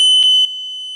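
Sea-Doo personal watercraft instrument panel sounding two short electronic beeps over a steady high-pitched tone, close and clear.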